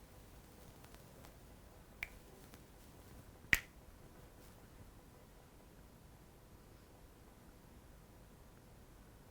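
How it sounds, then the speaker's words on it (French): A hypnotist gives one crisp finger snap midway through a hypnosis session, sharp and close in an otherwise quiet room, preceded by a fainter click. "à mon claquement de doigts"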